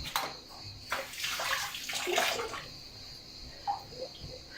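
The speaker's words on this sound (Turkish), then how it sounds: "Ellerimi yıkayayım." Running tap water splashes steadily over hands being washed in a home kitchen while cooking, a broad rushing wash with a louder burst in the middle, then a few small drips and clinks as the flow tapers off.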